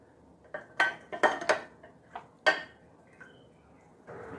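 Tofu pieces stirred through batter in a bowl for crispy fried tofu, giving a series of sharp clinks and scrapes of utensil against the bowl, irregular and close, with quieter gaps between strokes.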